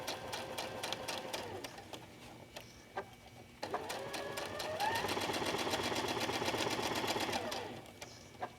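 A domestic sewing machine stitches ruffles into a garment with a rapid, even mechanical whir. It pauses briefly, then resumes in a longer continuous run, close and clear, with soft thumps of fabric handling.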